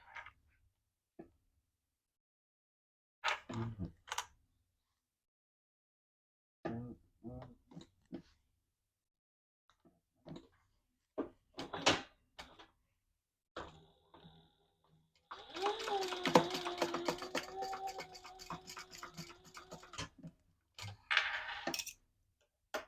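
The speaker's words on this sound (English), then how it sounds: "I'm going to just sew these together first, and then we'll tape them closed." A sewing machine runs in one sustained rhythmic stitching burst while the ends of a wallet are sewn together, preceded by scattered handling clicks and bits of quiet talk.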